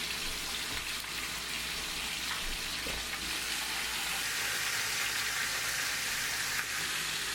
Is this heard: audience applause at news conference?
no